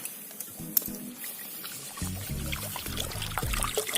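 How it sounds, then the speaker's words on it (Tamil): Petrol is poured onto firewood outdoors in a village, a gurgling glugging pour from a container that grows steadier and fuller, close by, with no talking. "பெட்ரோல் ஊத்தி இருக்கு"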